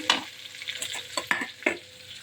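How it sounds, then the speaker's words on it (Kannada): Onions dropped into hot tempering oil with chana dal and urad dal for a vegetable palya sizzle steadily up close, broken by several sharp clinks and scrapes of stirring, with no one talking. "ಈರುಳ್ಳಿ ಹಾಕ್ಕೊಳ್ತಾ ಇದ್ದೀನಿ."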